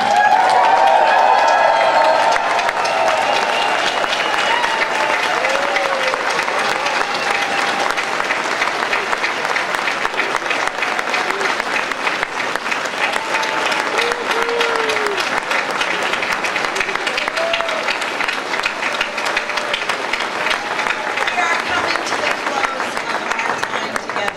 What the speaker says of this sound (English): Stand up and cheer.